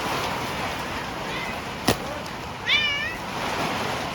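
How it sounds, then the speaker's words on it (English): A cat gives a short, faint meow once over a steady background hiss, following a sharp click. "Cat's probably freaked out because of the storm."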